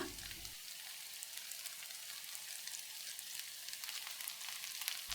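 Chicken roast (chicken varuval) frying dry in a pan, giving a steady, even sizzle throughout with fine crackling texture and a brief low clatter at the very start, no voices.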